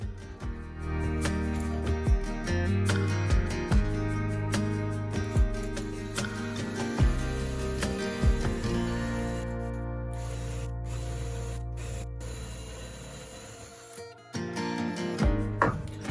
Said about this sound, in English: Drilling the hole for the freshwater tap.